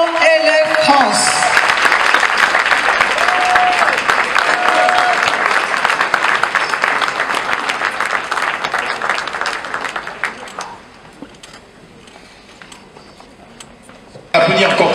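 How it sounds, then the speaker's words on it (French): A crowd welcoming a guest on stage with strong, sustained applause for about ten seconds, then fading to quieter scattered claps before a sudden loud burst at the end. "Applaudir encore très fort, s'il vous plaît."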